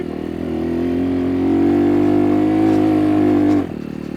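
A Kuba Race 125 motorcycle labours up a steep, rocky hill, its engine droning loud and close, rising in strain for a few seconds before cutting back abruptly near the end.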